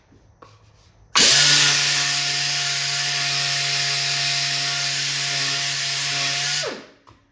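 A power sander running steadily while sanding an arcade cabinet during restoration, a loud close whirring drone that starts abruptly, holds an even tone for about five seconds, then winds down, with no talking.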